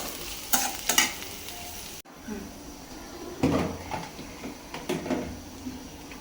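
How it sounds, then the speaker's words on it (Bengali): Onions sizzle and fry in oil in a pan, with stirring scrapes and clanks coming in bursts and a brief cut partway through. "একটু ভাজা হোক"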